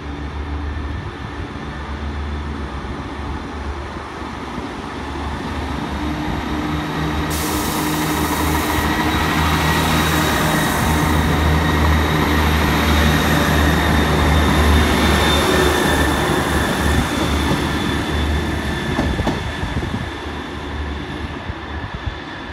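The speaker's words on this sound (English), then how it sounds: "there is going to be a freight train due to go through here about just before 2:30" A freight train rolls through Southampton Central station on the South West Main Line, a steady loud rumble of wagons building and holding for many seconds with faint wheel squeal, no talk.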